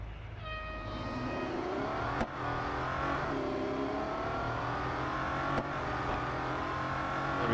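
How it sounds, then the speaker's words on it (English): Bugatti Centodieci engine revving hard during a drag race in Real Racing 3, a loud, sustained rising engine roar with climbing gear pitches and a couple of brief shift breaks, close and continuous throughout. "Okay, drag race."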